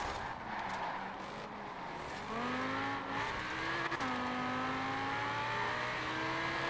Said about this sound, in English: Eternal seems to have a little bit better control of his NSX at the moment.